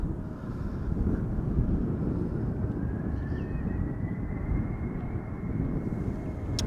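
An airliner in SkyTeam livery departs Schiphol Airport bound for Toulouse, giving a continuous low jet rumble with a faint rising whine, mixed with some wind buffeting on the microphone and no voices.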